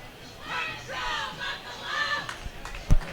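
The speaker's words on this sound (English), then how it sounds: "Nickel City, in my opinion, has the loudest cheering section." A loud crowd section cheers and yells at a masters swim meet, sustained rising shouts across the pool deck with a sharp thump near the end.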